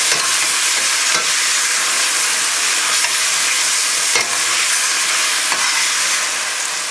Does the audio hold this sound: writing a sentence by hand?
no